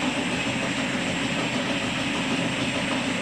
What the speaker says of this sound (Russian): Шумит, скорее всего, ремень, который надо там поднатянуть на шпинделе.